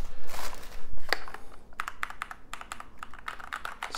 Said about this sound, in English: Listen to those keys.